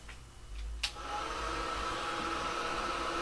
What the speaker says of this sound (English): Now I'm going to go ahead and heat it with the heat tool.